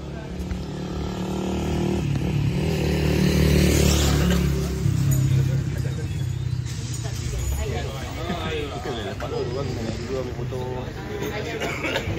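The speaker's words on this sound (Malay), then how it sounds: "Kita orang tengah panas-panaskan enjin motor dulu." Several Honda Transalp XL750 motorcycles idle and rev while warming up, a loud, uneven engine drone that swells early and then settles, with people talking over it.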